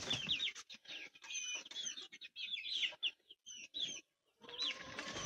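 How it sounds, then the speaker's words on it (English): A broody duck gives soft clucking calls in short bursts with brief pauses between them, close by and fairly quiet, with no talking. "Our broody duck."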